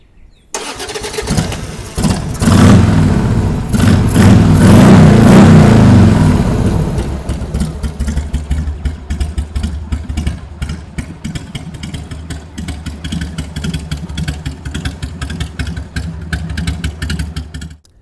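A custom-built Harley-Davidson Sportster fires up and revs loudly and close, a few hard throttle blips swelling then settling into a lumpy, rhythmic idle that runs on with small throttle stabs.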